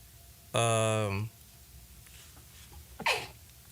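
A single sharp, loud nasal burst with a bright tonal edge, followed by a brief breathy exhalation; quiet background otherwise.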